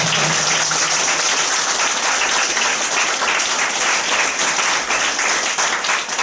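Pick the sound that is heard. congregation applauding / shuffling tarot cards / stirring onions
congregation applauding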